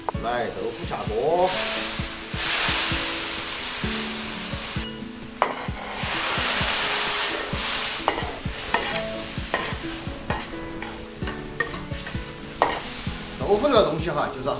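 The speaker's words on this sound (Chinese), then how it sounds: "豆腐下锅" Tofu goes into a hot wok over a wood fire with lard, chili and black beans, frying loudly. A spatula scrapes and stirs it in a steady rhythm, with sizzling that rises and falls, close and without speech.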